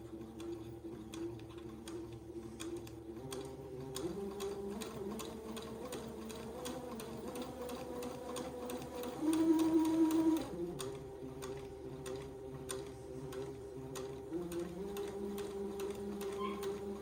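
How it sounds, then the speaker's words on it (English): A sewing machine stitches a straight seam down one side of a fabric tab, a steady, quiet rapid ticking hum that briefly rises in pitch and loudness partway through. "I'm just going to sew a straight seam down one side of the tab"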